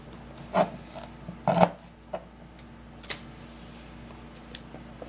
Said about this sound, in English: cut in a small amount of ginger